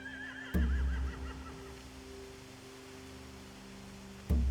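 A horse whinnies with a wavering high call in The Walking Dead: The Telltale Definitive Series, accompanied by a low steady hum and two sharp thuds at the start and end.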